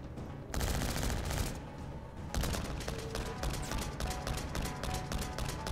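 Rapid bursts of automatic ARX rifle fire in the Infinite Warfare video game, loud and close, with a brief pause between long sustained volleys.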